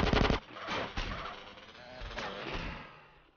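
Shotgun fire in GTA San Andreas: a loud close blast opens, then shorter reports and echoing bursts trail off over a few seconds, with no one speaking.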